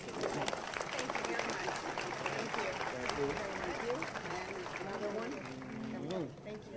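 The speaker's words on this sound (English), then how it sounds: "we need to give him a round of applause" Applause for Governor Jack Markell at a justice center naming ceremony, a broad wash of clapping from an indoor audience with voices and crowd murmur running underneath throughout.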